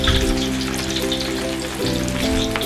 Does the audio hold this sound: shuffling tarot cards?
no